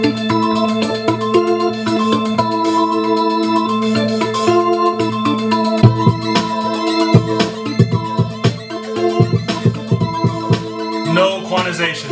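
A hip-hop beat made in GarageBand on a phone plays loud and steady, with punchy drum hits over sustained layered tones and no voices.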